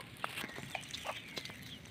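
Chickens cluck in short scattered bursts against a busy outdoor background, with a few sharper calls standing out.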